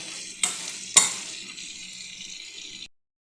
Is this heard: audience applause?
no